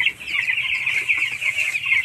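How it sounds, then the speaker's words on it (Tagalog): Chickens in a Philippine poultry farm house make a dense, continuous chorus of clucking and chirping from many birds at once, steady and fairly close. "Chicken, poultry here in the Philippines."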